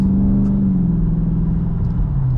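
A Dodge Charger's engine holds a steady, loud mid-range rumble as the car accelerates on a highway, with a gradual drop in pitch and no talking over it.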